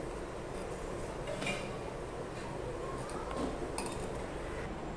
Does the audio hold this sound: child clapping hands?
no